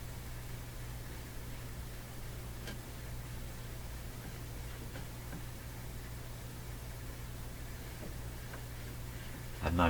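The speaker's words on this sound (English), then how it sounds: "I hear a small hiss coming from the speaker. Very weak." Faint, steady hiss from the speaker of a Hammarlund HQ-180 radio receiver with its noise limiter set low, a low, even broadband wash with a constant hum underneath, a short bump near the end.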